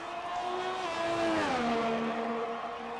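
A race car engine in the rFactor racing game at the Belgian GP holds a sustained whine, its pitch sliding down midway as it shifts or lifts, then settling steady and loud.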